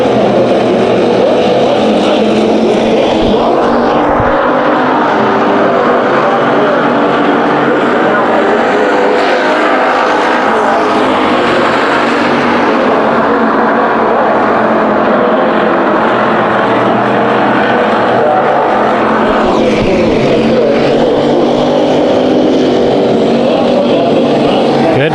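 Heat-race cars at Bakersfield Speedway roaring around the oval in a battle for third, loud continuous engine drone swelling and fading as the pack passes, with a commentator talking over it.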